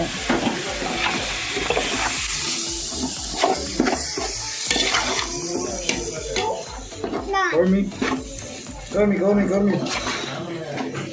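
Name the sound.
chopped tomatoes added to frying mutton biryani masala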